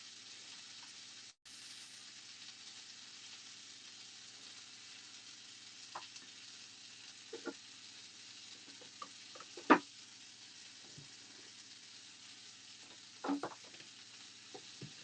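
Bacon frying in an extremely hot pan gives a steady, quiet sizzle with a few soft clicks and pops scattered through it, one sharper crackle standing out near the middle.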